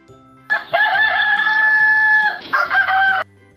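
A cartoon-style hen call rings out loud and close, a single drawn-out crowing cluck followed by a shorter second burst, standing alone against near silence.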